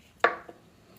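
A knife chops green onions in one sharp, close cut on a board, followed by a fainter tap.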